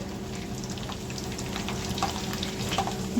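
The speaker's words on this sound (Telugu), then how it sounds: "కాగిన తర్వాత ఇలా ఒలిసిన ఎల్లుల్లిపాయలు వేసుకోవాలి" Peeled garlic cloves fry in hot oil in a pan, a continuous close sizzle with light crackling pops scattered throughout and no talking.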